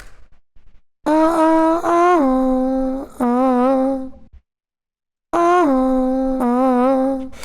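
A dry, unprocessed solo voice sings a quick melodic run of several sliding notes, pauses briefly, then starts the run again. Close and clear, with no reverb.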